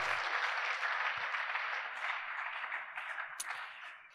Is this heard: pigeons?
no